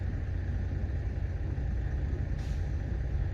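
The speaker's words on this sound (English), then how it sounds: "I'm here in the hill country, and parked at a truck stop this time, as you can probably hear." Trucks idle at a hill-country truck stop in a steady, heavy low rumble, with a brief hiss partway through that could be an air brake.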